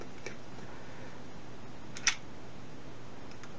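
A Univex Mercury II camera's shutter opens with one sharp, quiet click, preceded by a faint tick, in an otherwise hushed room.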